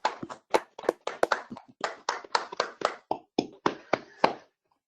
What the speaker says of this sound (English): It's always difficult to do applause when you're online, but we sometimes manage it